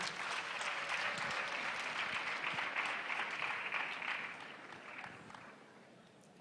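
An audience at a World AIDS Day celebration claps in a broad, sustained burst that thins and fades toward the end, fairly distant and moderately quiet.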